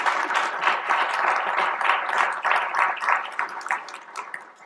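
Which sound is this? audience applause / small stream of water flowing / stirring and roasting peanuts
audience applause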